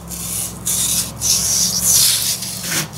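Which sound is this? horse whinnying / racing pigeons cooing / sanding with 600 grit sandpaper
sanding with 600 grit sandpaper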